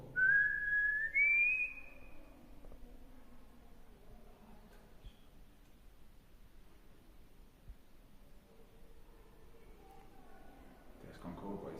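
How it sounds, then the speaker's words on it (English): A person whistles a short rising tune, clear and fairly loud at first, then quiet shuffling and faint background noise follow in an underground tunnel. "Can you copy this whistle?"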